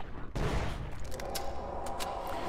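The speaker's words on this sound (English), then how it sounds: "Do I have to saw them off with the SMG?" SMG fire from Halo 2 comes as a dense, sustained burst of rapid automatic shots, loud and close, with a heavy thump at the start followed by continuous chattering fire.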